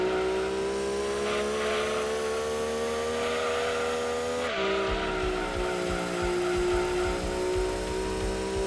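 A car drifts with long, steady tire squeals over a droning engine in Gran Turismo 2 on the PS1, the pitch shifting midway as the slide continues loud and close.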